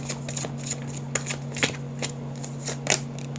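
Tarot cards are shuffled by hand in a quick run of soft, papery riffles and slaps, close and steady, over a low constant hum.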